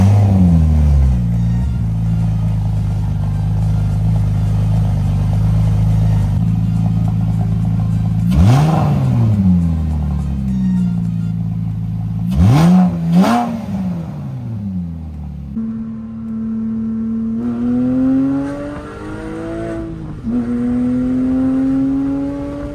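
A Porsche 997 Carrera 4S fitted with a modified intake starts with a deep, loud idle, then revs sharply several times, rising and falling in quick swells before settling into higher, steadier engine notes close by.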